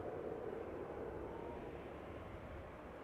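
A KLM Embraer 190 airliner moving at Schiphol gives a steady, distant engine roar that holds evenly throughout with no talking.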